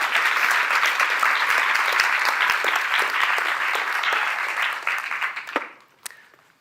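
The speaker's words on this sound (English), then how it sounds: "Please give a round of applause for Lande." An audience at a discussion evening breaks into sustained, loud applause, full and even for several seconds before thinning out into a few scattered final claps.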